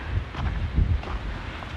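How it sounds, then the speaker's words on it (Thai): Strong wind gusting along a slippery road, rough buffeting noise with a couple of louder gusts hitting close to the microphone, no talking. "ลมแรง"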